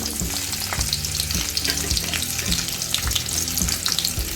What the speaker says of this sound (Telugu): ఆయిల్ వేడైన తర్వాత ఇందులో అర స్పూన్ జీలకర్ర, 3 ఎండుమిర్చి, కొద్దిగా అల్లం, 4 వెల్లుల్లి రెబ్బలు